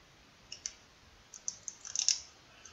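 Protective plastic film being peeled back from a Raspberry Pi case, heard as a quiet series of soft, crisp clicks and crackles that cluster into a brief flurry near the end, with no talking.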